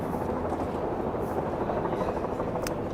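A police helicopter hovers over a quiet New York City street, its steady, dense rotor and engine rumble filling the air without a break.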